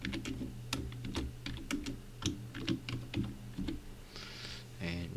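Typing a track title on a computer keyboard, a close run of irregular key clicks and taps with a brief softer rustle near the end, quiet and alone with no speech.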